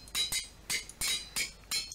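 Hammer striking metal into plates in modded Minecraft, five or six sharp metallic clinks in quick irregular succession, crisp and close with no talk.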